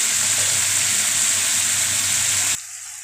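Onions frying in hot refined oil for egg biryani give a steady, loud sizzle that continues evenly, then drops off abruptly near the end.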